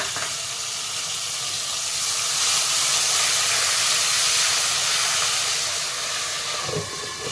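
Ginger garlic onion paste cooks in a pan for Punjabi Pindi chole with a continuous soft hissing sizzle, steady and close, briefly interrupted near the end.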